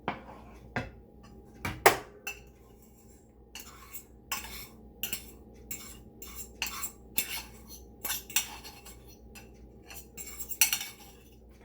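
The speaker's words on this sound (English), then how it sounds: "I'm going to add in my cooked rice" Cooked rice being added to a pan, heard as repeated scraping and clinking of a utensil against cookware in irregular bursts, close and fairly loud, no talk.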